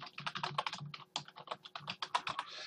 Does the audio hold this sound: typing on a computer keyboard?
yes